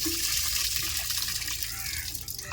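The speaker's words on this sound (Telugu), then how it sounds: "నీళ్ళు దండికి పోసుకొని బాగా కడుక్కోవాలన్నమాట చేపలని." Water poured over dried fish in a vessel as they are rinsed, a continuous close splashing, running-water wash lasting a couple of seconds.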